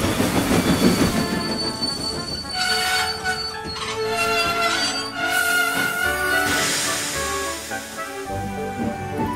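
A train with coaches, its last coach suffering faulty brakes, runs along the rails with loud, shrill wheel squeals ringing over a continuous rolling rumble and no voices.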